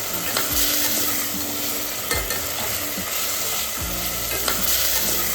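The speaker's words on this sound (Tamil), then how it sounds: "கொஞ்சம் இன்டர்வெல்ல இந்த மாதிரி நல்லா கிளறி விட்டுக்கிட்டே இருக்கணும்." Chicken curry fries in a pan and is stirred, giving a steady loud sizzle throughout, with a few scraping strokes of the spoon against the pan at intervals.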